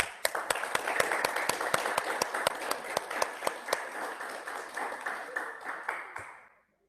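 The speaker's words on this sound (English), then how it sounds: "let's welcome, with a big applause, Dr. Zahra Saluhia" An audience gives a speaker a welcoming round of applause at a public health conference. Evenly spaced sharp claps keep a steady rhythm, sounding like one or a few people clapping near a microphone, and the claps fade out at the end.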